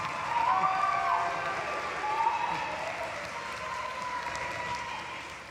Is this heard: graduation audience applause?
yes